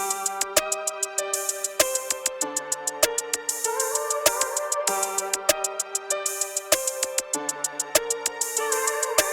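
Programmed Detroit-style beat made in FL Studio loops with sharp percussive hits and a melodic synth line, an open hi-hat sample layered in as quick repeating bursts, loud and dry with no voices.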